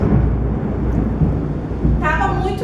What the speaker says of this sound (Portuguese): Deu um raio muito forte.